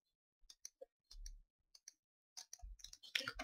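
Mouse clicks in a survival video game, scattered single and paired sharp taps with quiet gaps between them, growing busier toward the end.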